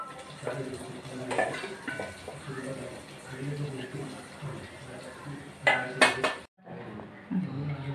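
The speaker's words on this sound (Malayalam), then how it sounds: "നമ്മളത് പായസത്തിലേക്ക് ഒഴിക്കാണ്" Fried cashews and raisins go into carrot semiya payasam with a sizzle, then a clatter of pan and spoon near the end. A voice talks over the kitchen noise.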